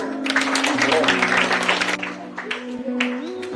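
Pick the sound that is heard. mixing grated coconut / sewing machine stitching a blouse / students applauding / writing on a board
students applauding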